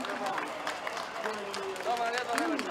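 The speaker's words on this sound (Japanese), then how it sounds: "大きな拍手をお願いいたします" A crowd claps at an outdoor Japanese political street speech, a dense steady patter of applause throughout, with someone speaking loudly over it through a microphone.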